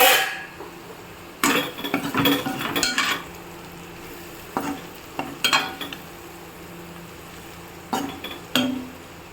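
Ivy gourd (dondakaya) fry sizzling in a pan, with bursts of stirring and spoon clinks against the metal at intervals over a steady background hiss.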